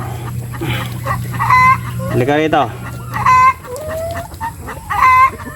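A chicken with a string tied to its leg clucks in short repeated bursts, close by, with a person speaking briefly in between.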